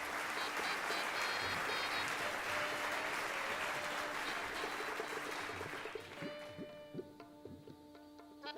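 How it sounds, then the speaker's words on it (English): A thick wash of clapping rises from the audience at a sports meet's inaugural ceremony, then thins out after about six seconds as sustained tonal music and a few scattered claps take over. "Can we please have a huge round of applause, everyone?"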